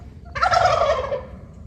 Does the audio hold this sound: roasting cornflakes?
no